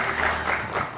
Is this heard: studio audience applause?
yes